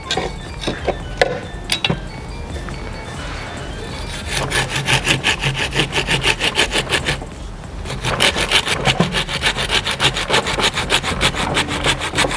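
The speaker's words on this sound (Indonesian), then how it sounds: "Gergaji aja." A hand saw cuts through the wood of bonsai stock in steady back-and-forth rasping strokes, close and loud, in two long bursts after a few preliminary scrapes and knocks.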